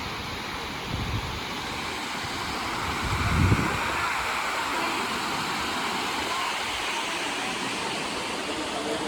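Water overflowing from Vihar Lake in Powai, Mumbai, makes a steady broadband rush like a waterfall, with a few low gusty bumps of wind on the microphone, loudest around the middle.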